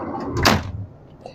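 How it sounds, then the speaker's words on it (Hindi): A train coach's sliding door on a Pakistan Railways carriage slides and shuts with one loud, close, broadband thud-and-rattle, followed by a brief faint click of the lock. "ये स्लाइडिंग डोर है, इसका ये लॉक है"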